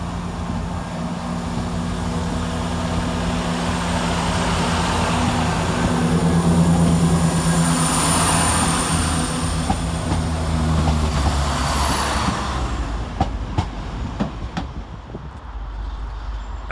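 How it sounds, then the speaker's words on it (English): Northern train 17476, running about half an hour late on a service to Scarborough, pulls out of Sheffield station with a loud, steady rail rumble that swells midway, then clicks and clatters over track joints as it moves off. "departing about 31 minutes late is 17476 with the 1357 Northern service to Scarborough via"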